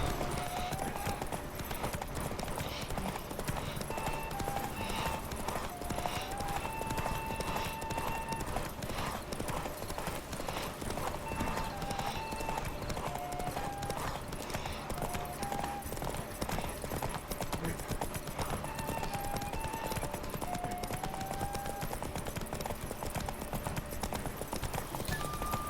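Horse hooves clip-clop in a steady rhythm throughout The Witcher video game, set against constant game music with melodic tones and a brief faint voice.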